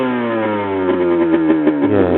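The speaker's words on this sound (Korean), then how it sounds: "역시 투사이클다운 배기음" A 2008 Aprilia RS125 two-stroke motorcycle fitted with an Arrow expansion chamber revs loudly and up close, its sharp, buzzy exhaust note rising and pulsing in quick blips.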